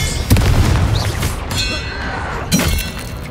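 Incendio fire spell blasts in the Hogwarts Legacy video game: loud close booming bursts with crackling, shattering debris, two strong hits about two seconds apart over a dense combat din, with no clear talk.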